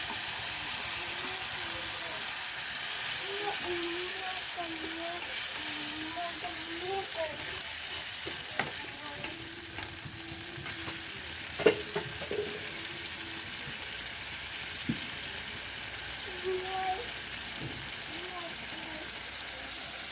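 Ground peanut paste made from soaked peanuts fries in a pan, a soft sizzle with occasional stirring scrapes and clinks, and a low voice murmurs in the background.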